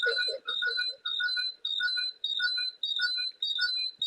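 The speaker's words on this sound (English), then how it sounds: "I'm fine with the ringing." A repeating electronic ringtone trills in short bursts with brief gaps, steady and fairly loud, with no voices.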